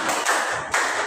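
A class of students claps together in an Islamic religious education lesson, a dense burst of many hands broken into a few quick rhythmic groups, fairly close and steady with no talk over it.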